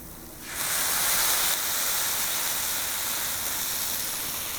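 Wine hits a hot pan of cooking mushrooms, shallots and thyme, setting off a sudden loud hissing sizzle that surges at first and then settles into a steady, slowly easing steam hiss.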